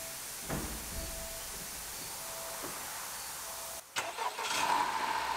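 An Acura RDX Aspec AWD, rebuilt after hitting a pole, has its engine started after the battery is reconnected: a steady hiss breaks briefly, then the engine catches and rises into a running drone, close by with no talking.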